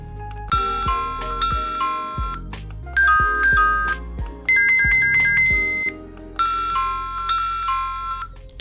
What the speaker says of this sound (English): That's gonna be how we toggle through our chime sounds.